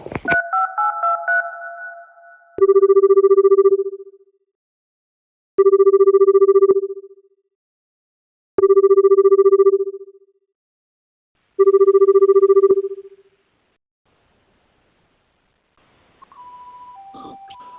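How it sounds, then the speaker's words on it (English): A telephone rings four times in slow, evenly spaced bursts, each a steady electronic double tone, with silence between rings; faint noise at the end. "we gonna try to get Big Brother Ben on the phone"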